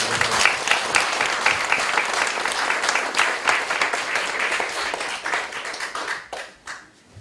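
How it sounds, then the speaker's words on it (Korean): A church congregation gives warm, sustained applause to celebrate a bishop's inauguration at a thanksgiving service: dense, loud clapping from many hands that holds steady, then thins out and fades near the end. "우리 모두 감독 취임을 축하드리면서 뜨거운 박수로"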